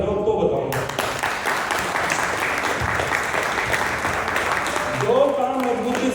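A seminar audience in Vasco, Goa bursts into loud, sustained clapping that fills the room. Voices carry over the applause before it thins out near the end.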